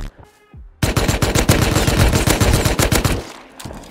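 Rapid automatic fire from an AK rifle in a video game cracks out in a dense, loud burst of about three seconds after a short quiet lead-in.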